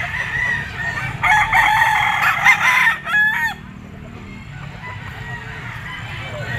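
A possum sweater gamefowl rooster, local banded, crows once at close range at a bustling pet market, one long, loud, wavering call over steady crowd murmur.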